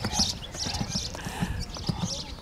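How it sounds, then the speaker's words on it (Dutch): Rhythmic clip-clop of hooves trotting at a steady pace, fairly close, with occasional voices in the background. "Laat hem maar rustig draven!"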